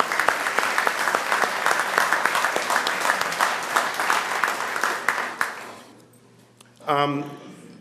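Loud, dense applause from a crowd fills the first several seconds, then fades out, followed by a brief voice speaking.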